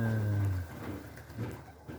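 Low, soft cooing of a pigeon or dove, a few short hums at the start, with faint outdoor background noise after.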